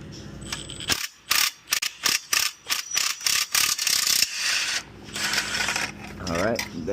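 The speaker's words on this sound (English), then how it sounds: "Now that flange is off, screw's gonna fall." A screw drops from the starter flange of a 2014 Mercedes S550 W222, a quick series of sharp metallic clinks and rattles bouncing close by amid workshop noise.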